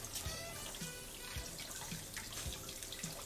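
Tap water running in a sink over an egg while it is peeled: a faint, continuous trickle with small splashes and soft taps at irregular intervals, close by and alone.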